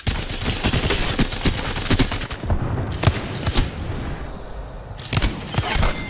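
Repeated bursts of gunfire from an online battle royale match, loud and near, with dense rapid volleys and sharp individual shots running nearly throughout, briefly thinning before more shooting resumes.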